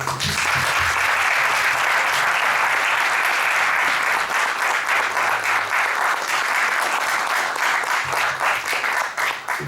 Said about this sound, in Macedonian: ќе молам да уште еден аплауз.